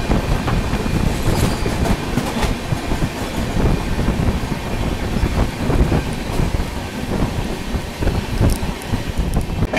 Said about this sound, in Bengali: এই ট্রেনের নাম হচ্ছে অকাল তখ্ত এক্সপ্রেস